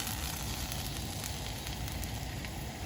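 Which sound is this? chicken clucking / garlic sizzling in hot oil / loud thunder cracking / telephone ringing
garlic sizzling in hot oil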